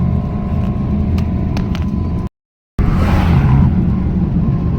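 A Bajaj Riki electric rickshaw drives along the road on a long trip, giving a steady loud road rumble and wind noise that cuts out briefly for a moment of silence, then resumes.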